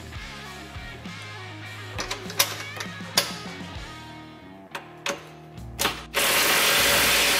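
Hand ratchet tightening a screw and a bolt on a Can-Am Defender's cab enclosure door, quick clicking strokes in short bursts with sharp knocks between them, close and clear, ending in a burst of hiss.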